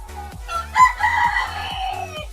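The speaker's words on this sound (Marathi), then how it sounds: "बघला कोंब्यान मका बघल्या ना आणि आवाज दिल्या" A rooster crows once, loud and close, in a rural farmyard where maize has been set out, with a steady mechanical thumping pulsing underneath.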